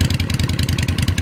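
A Yamaha Virago V-Star XV250 motorcycle runs with a homemade exhaust, a loud, close, throaty low-pitched rumble that pulses rapidly and evenly at a steady idle-like pace.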